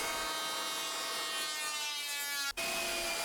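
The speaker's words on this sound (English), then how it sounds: "Now I remove excess with a planer." Power planer shaving excess wood from a composite wooden mast: a loud, continuous high-pitched whine and rasp held for about two and a half seconds, then cut off abruptly by a brief dropout before a quieter tail.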